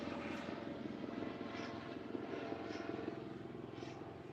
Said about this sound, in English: a helicopter overhead